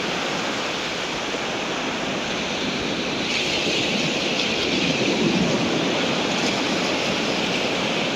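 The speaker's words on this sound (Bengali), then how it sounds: "ঢেউয়ের শব্দ।" Sea waves breaking on the shore, a broad continuous roar of surf that swells slightly midway, loud and steady without any talking.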